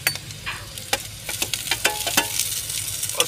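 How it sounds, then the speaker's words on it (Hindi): Chopped onions fry in a pan, a steady sizzle broken by irregular scraping and stirring clatters from a spatula, close up and with no talking. "और प्याज को भी फ्राई कर लेते हैं अच्छे से"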